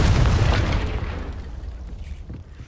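A Confringo blasting spell explodes in the Hogwarts Legacy video game: a single loud, deep boom that decays with a rumbling tail over a few seconds.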